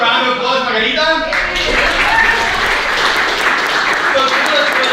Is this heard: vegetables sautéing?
no